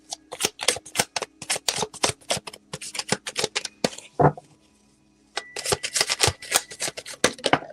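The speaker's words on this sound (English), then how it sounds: "I'm going to pull some cards on this before I go." Tarot cards being shuffled by hand in a steady run of crisp riffling snaps, close and fairly loud, with a brief pause and a single soft knock before the brisk shuffling resumes.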